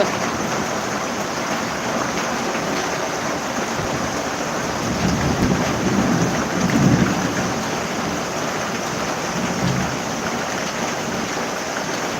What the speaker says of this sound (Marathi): काय खरं नाही त्या पावसाचं